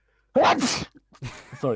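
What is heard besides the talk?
sneeze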